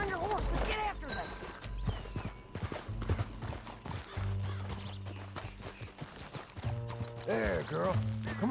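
Horse hooves clip-clopping in the Red Dead Redemption II video game, an uneven rhythm of hoof falls with a whinny, under a voice and game dialogue.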